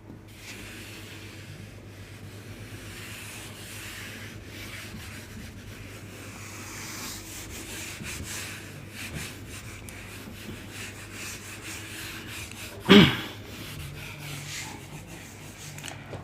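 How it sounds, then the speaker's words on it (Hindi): An eraser rubbing across a board during a maths lesson on perimeter and area: a soft, steady scrubbing over a low room hum, with one sharp knock near the end and no talking. "अभी इसको रब करते हैं हम।"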